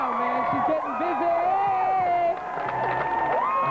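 A dense spring break crowd in Cancun cheers and shouts continuously, loud whoops and voices layered over one another with a pause in the swell partway through.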